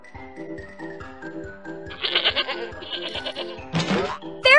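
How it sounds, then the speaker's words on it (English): A mountain goat bleat from a kids' animal puzzle game, heard as a few wavering bleats near the end over a light, bouncy looping music track. "Mountain goat."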